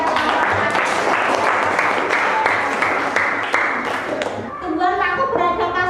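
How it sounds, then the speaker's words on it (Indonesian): Classroom applause for a student group, a lively burst of many hands clapping that fades after about four seconds into a voice speaking clearly and close. "Iya, tepuk tangan buat kelompok."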